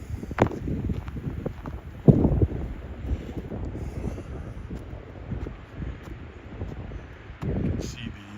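Wind blows across snowy ground outdoors in Regina in mid-March. Steady gusts buffet the microphone with a low rumble that swells and eases over several seconds.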